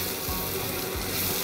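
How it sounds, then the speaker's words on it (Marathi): Masala with red chili powder sizzles steadily in a hot pan, a dense, continuous close frying hiss with no talking. "आता हा मसाला छानपैकी परतून घेतलेला आहे."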